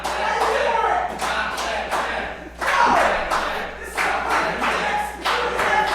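Live crowd at a pro wrestling event cheering and clapping for a wrestler, a broad roar with rhythmic claps and thuds rising and falling across the arena.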